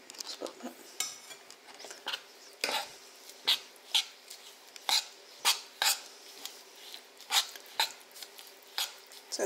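Metal spoon scraping and pressing seeds into fat for bird fat blocks, giving a run of short, irregular clinks and scrapes close by with brief pauses between strokes.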